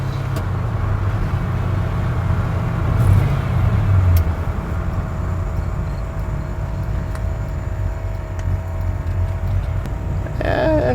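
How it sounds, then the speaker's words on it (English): A custom twin-turbo Ford F-150 sleeper truck accelerating under boost, heard from inside as a steady, loud, droning engine roar with road noise, rising slightly midway, without speech. "we'll let it make boost, and when it stops making boost, we'll shift to the next gear."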